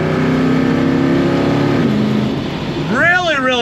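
1970 Plymouth AAR 'Cuda muscle car accelerating hard on throttle, a loud close engine roar climbing in pitch, dipping briefly at a gear change, then revving up again as a voice speaks over it.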